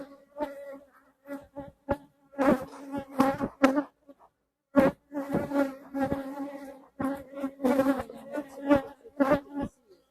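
Honey bees buzz in bursts, a steady hum with harmonic drone that swells and drops repeatedly, with short silent gaps between.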